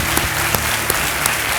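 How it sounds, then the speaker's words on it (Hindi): Studio audience applause on a Kaun Banega Crorepati game show set, a steady dense clapping that fills the whole stretch at close range with a low musical bed beneath, no voices. "तालियां बजती रहें देवियों सज्जनों"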